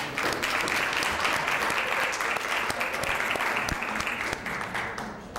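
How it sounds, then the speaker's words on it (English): Audience applause for a panel at a community leaders institute in Huntsville, Alabama: steady, dense clapping from a sizable crowd that holds evenly for several seconds, fairly close and without voices over it. "Let's give our panel another round of applause."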